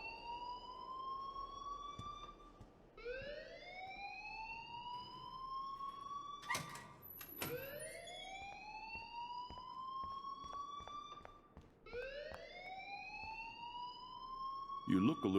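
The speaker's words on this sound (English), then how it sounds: "please turn off that alarm since that's your job." A school alarm in the Life Is Strange video game wails in rising, siren-like sweeps that repeat roughly every few seconds, loud and continuous, with brief sharp clatters in between.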